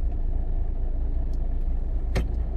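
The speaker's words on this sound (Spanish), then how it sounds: "aquí tenemos un coche de autoescuela" A driving-school car on a road in Zaragoza rolls past with a steady low rumble of tyres and engine, fairly close, with a brief brighter swish near the end.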